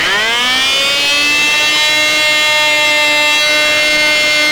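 An ultrasonic trimming tool switches on and runs with a loud, steady, high-pitched whine that rises and settles into a continuous tone with a noisy hiss beneath.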